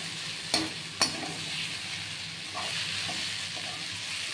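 Malabar spinach frying in a pan on high heat, giving a low, even sizzle throughout, with two sharp utensil knocks early on and a few softer scrapes later.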